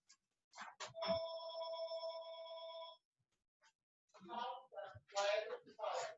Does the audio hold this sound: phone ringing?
yes